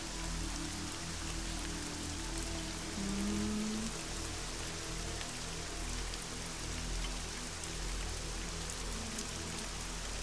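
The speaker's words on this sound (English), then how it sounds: "It's super rainy, so it's very like bundly." Steady rain falls, a constant wash of patter on surfaces with no breaks, accompanied by a low, droning hum underneath.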